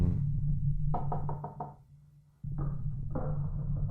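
Inside a closed, chained-up gas station, a series of five quick hollow knocks sounds, then a pause and two more knock bursts, all faint over a steady low hum with no talk.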